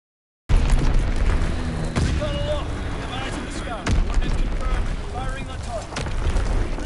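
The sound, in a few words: Azon bomb dropped and exploding in a video game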